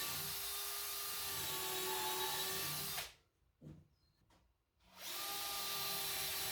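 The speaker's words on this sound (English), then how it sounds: "here I'm pre-drilling the holes for it." A power drill pre-drills holes in wood for a teardrop trailer build, whining loudly and steadily, then cuts out for about two seconds with a brief blip before starting up again.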